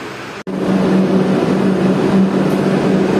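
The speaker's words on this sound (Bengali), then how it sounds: "সেই মেট্রো এলো কবি সুভাষে, আর এটা এখন বেলেঘাটার জন্য ছেড়ে যাবে কিছুক্ষণ বাদে" Loud, steady rumbling hum of a Kolkata Metro train arriving at Kavi Subhash station, with a low drone, after a brief dropout near the start; no talking.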